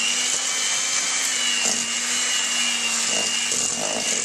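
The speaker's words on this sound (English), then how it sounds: "you can keep whisking and get them to very, very slowly trickle the egg into the mixture" An electric mixer whisks egg into cupcake batter, producing a continuous steady whirring hum that stays even and close throughout.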